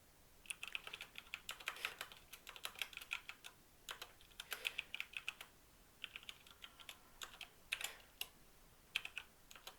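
Fingers tap quickly on a computer keyboard in irregular bursts of close, crisp clicks, separated by short pauses, quiet overall with no talking.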